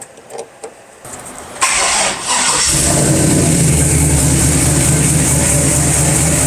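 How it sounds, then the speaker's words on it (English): A truck engine, an LS-swapped OBS, cranks briefly after a few quiet clicks, catches, and settles into a steady, loud idle rumble that continues to the end. "fire this thing up and see if our mystery noise went away."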